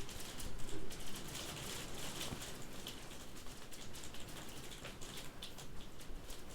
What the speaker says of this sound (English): it's raining a lot over here. We're literally getting hailstones